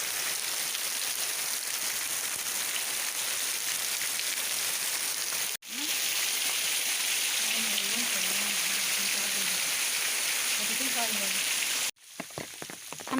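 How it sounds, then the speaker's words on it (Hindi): Heavy rain pours down on a muddy outdoor spot, a dense steady hiss of drops on surfaces throughout, with brief faint voices in the background near the end. "बहुत बारिश हो रही है, बहुत ज़्यादा।"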